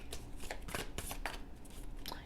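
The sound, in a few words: shuffling tarot cards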